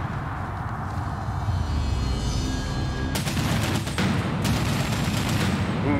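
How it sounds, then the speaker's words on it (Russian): Sustained assault rifle fire in Medal of Honor: Warfighter rattles continuously, with two sharper, louder bursts cutting in near the end over a rumbling battlefield backdrop. "Это ведь не пистолет, я стреляю из автомата."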